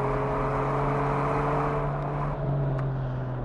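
A 2000 Ferrari 550 Maranello race car in a Ferrari Challenge event drones steadily with a loud, sustained engine tone, slightly easing and swelling as it brakes and accelerates on track, alone without talk.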